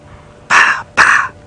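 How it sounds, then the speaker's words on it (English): Impala calling from far off in the bush on an early-morning safari drive, two short, harsh, snorting bursts in quick succession over a quiet background. "You can hear the impala calling way into Buffelshoek there."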